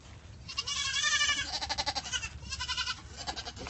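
Young goat kids bleat in a string of wavering, tremulous cries, several calls in quick succession close by, raised as family pets and waiting for a bottle.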